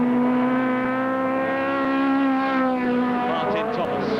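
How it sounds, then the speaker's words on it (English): Saloon race cars from 1971 sound as a loud, sustained engine drone with a steady pitch that slides slightly as they lap the Crystal Palace circuit, with a commentator talking over it. "of Thomas's car, so close is he to him, as they come round the right-hander again at South Tower, into the top straight again to complete lap 12 and start lap 13"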